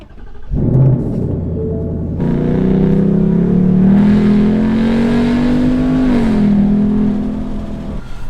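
A 2021 Ford Mustang GT Premium, S550 generation with a V8 and ten-speed automatic, starts up and holds a loud, steady engine rumble that climbs slightly in pitch midway before settling, close and alone.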